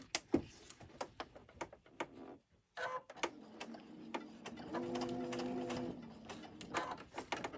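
An electronic sewing machine stitches quilt pieces for a star square block, its close, steady whirring motor hum running for a few seconds amid light clicks and handling taps before and after.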